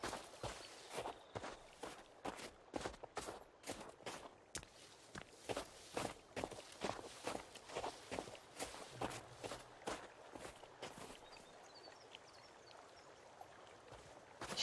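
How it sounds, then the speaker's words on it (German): Footsteps crunch through snow in the survival game Sons of the Forest, a steady walking rhythm of soft, gritty crunches that grows fainter toward the end, heard alone without talk. "die knatschenden Schritte im Schnee"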